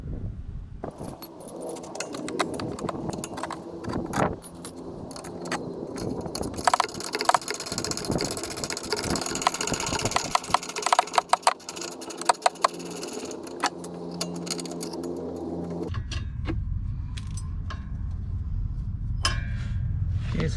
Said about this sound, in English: I'm going to be removing this emergency brake cable mount first.